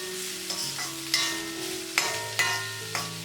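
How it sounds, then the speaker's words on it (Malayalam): Sliced onions with ginger and garlic sauté in hot oil for a matar paneer masala, a soft steady sizzle broken by several crisp scraping stirs of a spoon in the pan. "സവാള ചേർത്ത് വീണ്ടും നല്ലതുപോലെ വഴറ്റി കൊടുക്കാം."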